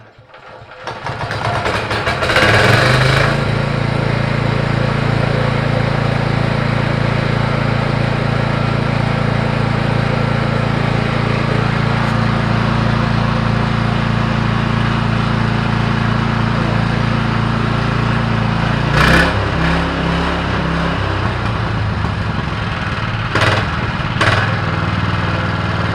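A small Harbor Freight gasoline engine swapped into a Yamaha golf cart starts up and runs at a steady idle, a loud close putter that holds constant for over twenty seconds with a brief pitch change midway.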